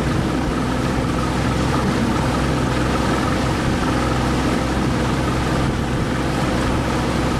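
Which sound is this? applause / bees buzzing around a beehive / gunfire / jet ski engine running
jet ski engine running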